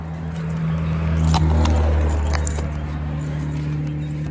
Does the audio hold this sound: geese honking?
no